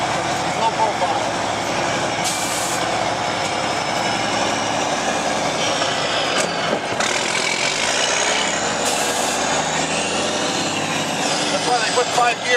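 A log truck's engine rumbles loudly and steadily while backing up, with a deep drone, occasional hissing bursts and clanks, as people talk over it.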